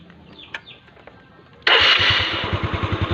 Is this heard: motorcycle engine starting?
yes